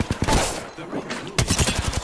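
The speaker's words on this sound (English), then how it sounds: "They're shooting at me." Enemy gunfire in the Apex Legends video game, a series of sharp shots in irregular bursts, loud and close, with a quieter lull in the middle before the shooting resumes.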